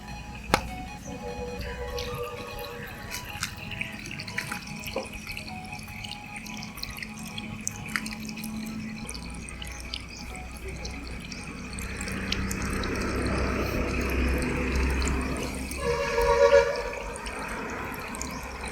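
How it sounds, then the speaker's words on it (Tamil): Water runs steadily from a homemade magic water tap fountain, a soft continuous trickle and splash close by that swells stronger toward the end, with no talking. "தண்ணி ஃப்ளோ நல்லாவே வருது."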